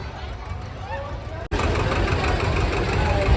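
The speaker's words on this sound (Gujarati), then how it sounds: "હજી ફેમિલી ટ્રેક્ટર ચાલુ થયા છે" Tractor engines run at the Bhavnagar Rath Yatra procession, a steady chugging idle with a knocking diesel beat that cuts out briefly and then resumes louder, while people talk nearby.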